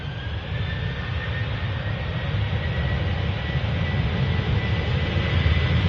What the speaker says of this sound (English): enjoy the sound of this Virgin Atlantic A330-300 blasting off 23 left at Manchester